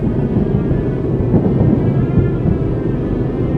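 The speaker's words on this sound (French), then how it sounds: "le fracas d'un orage lointain roule sur l'horizon" A distant thunderstorm rumbles low and steady across the horizon at night, a continuous broad roll with no voices over it.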